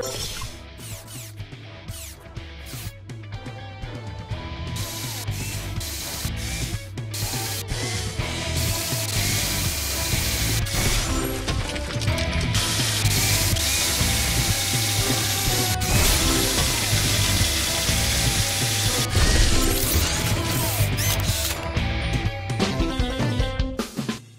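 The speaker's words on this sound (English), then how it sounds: "Move this to place the drill." A drill in the PAW Patrol The Movie Adventure City Calls video game gives a loud, continuous mechanical whirring and ratcheting that runs unbroken for the whole stretch.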